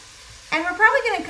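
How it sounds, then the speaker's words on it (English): Vegetables with bacon, cumin and chopped fresh oregano hit a hot pan, setting off a sudden steady sizzle that swells and keeps frying for the rest of the moment, with no talk over it. "we're probably going to cook these vegetables and in with the bacon and the spices for about 10 to 12 minutes"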